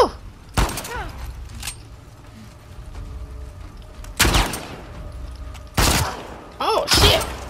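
Gunfire in The Last of Us Part II, with several loud, close bursts of shots separated by pauses and a few quieter single reports, under occasional talk.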